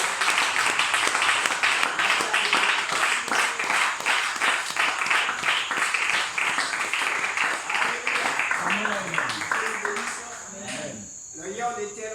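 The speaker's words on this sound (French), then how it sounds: "Vous pouvez acclamer le Seigneur pour la présence." A church congregation applauds and acclaims the Lord at a seminar service, with dense, steady clapping and cheering that carries on for about ten seconds before thinning out, while a voice rises near the end.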